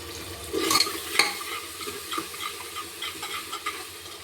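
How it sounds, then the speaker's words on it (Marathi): Onions frying with a pinch of sugar in a pan for black-eyed pea masala, a soft sizzle with sharp spatula scrapes and taps against the pan, close by and without voices. "यामध्ये थोडीशी साखर घालायची, कांदा लवकर परततो"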